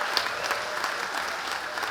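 An audience at the opening of the Social Forum at the Fête de l'Humanité applauds steadily, a dense, even wash of clapping from many hands throughout, with no talk over it.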